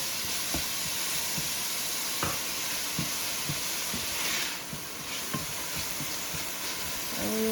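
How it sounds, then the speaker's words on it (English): Onions with salt sautéing in a pot, making a soft, steady hiss punctuated by light, regular taps of stirring. "And we let it saute for about 3-4 minutes."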